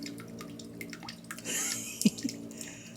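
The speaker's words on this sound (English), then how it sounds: "See, now I can have soothing water noises as I'm working." Water running and dripping from a tap while someone works on a floor or door repair, a soft splashing trickle with small drips and a brief louder gush midway, against low background hum.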